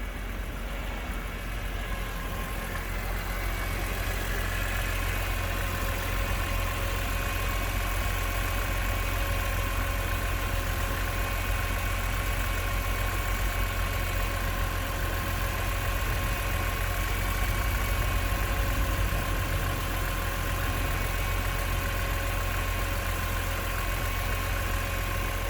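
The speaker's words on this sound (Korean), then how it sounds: "엔진 아이들링을 한번 들어보도록 하겠습니다" A BMW M3 (E46) engine idles steadily for the whole stretch, a constant low rumble with an even hum and no revving.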